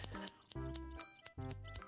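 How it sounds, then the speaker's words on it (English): Scissors make a small incision in a rapid series of crisp, close snips, each one sharp and distinct, with no talking. "Now, with your scissors. Yep. Okay. You need to make a small incision."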